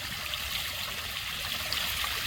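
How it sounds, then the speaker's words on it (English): Water pours out of a drainage pipe running from a dam into a trench, a steady broadband rush and trickle that holds even throughout, close by and with no voices. "The water is still above the pipe, but it's as you can see, it's flowing out."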